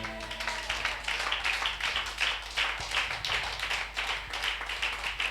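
A church congregation at a Sunday worship service applauding and cheering the Lord, with dense, continuous rhythmic clapping that sounds steady and moderately distant, layered over a low background hum.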